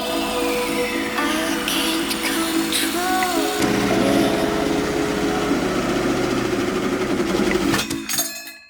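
A power saw cuts a hole through the metal wall of a van, a loud steady buzzing whine with metallic rattling and clinking, the pitch shifting midway before the blade stops abruptly at the end.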